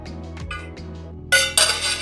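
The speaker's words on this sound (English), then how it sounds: "we're going to dump in our liquid mixture" A few light clinks of utensils against a bowl, then a liquid mixture is poured in a short, rushing splash over flour and fast action yeast for bun dough.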